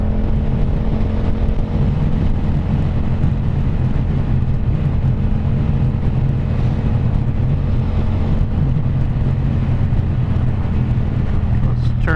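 A Yamaha FZ-07 motorcycle fitted with a Two Brothers Racing exhaust cruises at steady speed, a loud continuous engine drone mixed with heavy wind buffeting on the microphone.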